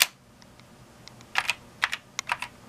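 Typing on the keyboard of a Briel Replica I, an Apple I clone computer: a few close, crisp keystrokes, then a quick burst of clacking keys in an uneven rhythm, with no voices.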